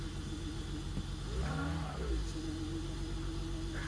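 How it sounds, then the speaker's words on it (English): A BMW E46 engine runs with a rough, uneven rumble, briefly rising and stumbling as it misfires, under steady mechanical noise. "that's really good how it's misfiring."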